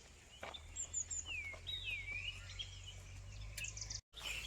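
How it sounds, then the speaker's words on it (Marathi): Birds chirp and whistle in a forest, several bright calls overlapping at a moderate distance above a low steady hum, with no voices heard. "आणि इथे पक्ष्यांचा खूप चांगला आवाज येतो आहे."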